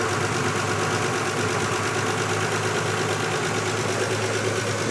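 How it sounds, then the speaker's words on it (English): An old Volvo 164 engine with synced carburetors idles slightly high, a loud, steady rumbling drone with a faint rhythmic knock and no talking. "The idle might be a little high."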